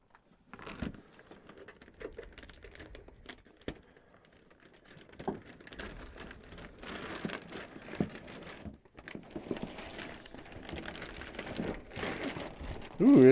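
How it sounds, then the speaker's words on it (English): Plastic wrapping peeled and pulled off an APC BX1500M 1500VA UPS unit, close crinkling and rustling that grows busier and louder toward the end, with scattered handling bumps and no talk. "Take this plastic off."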